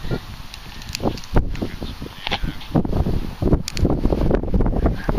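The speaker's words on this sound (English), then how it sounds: "I'm trying to hide from the wind and then the shades." Wind buffets the microphone outdoors during UK metal detecting, producing loud, uneven low rumbling and gusty rustling throughout.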